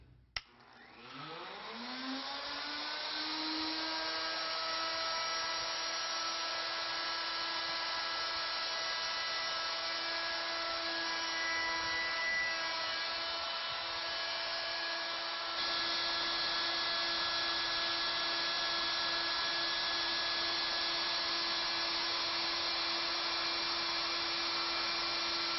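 A router cutting a taper into wood stock as it rotates on a lathe-style carriage, a steady high motor whine that spins up at the start and then holds a continuous loud tone.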